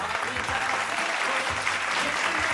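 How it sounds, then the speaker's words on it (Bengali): A studio audience at a televised family game show breaks into loud, dense, sustained clapping from start to finish. "জোরে একটা হাততালি"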